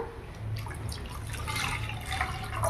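Coconut milk pours steadily into a pan while cooking a sweet flattened-rice and coconut dish, a soft continuous liquid trickle with faint drips, no talking.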